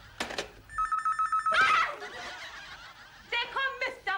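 A telephone bell rings in short repeated bursts amid household sounds, with voices and a brief laugh mixed in nearby.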